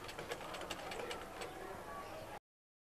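A sewing machine stitches a neck design in a continuous close whir with quick rhythmic ticking, running steadily before it cuts off abruptly.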